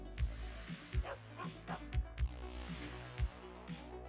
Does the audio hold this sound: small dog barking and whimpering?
yes